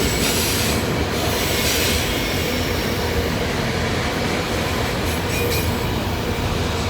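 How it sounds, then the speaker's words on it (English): A long freight train, about two miles long, rumbles past close by, a continuous loud roar of wheels on rails with metallic squeals, steady throughout with no break. "This has got to be a 2-mile train."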